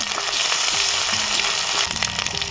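Ginger paste and chopped tomato sizzle steadily in hot oil while khichdi masala is being made, with a loud, continuous frying hiss and a few faint clinks of stirring.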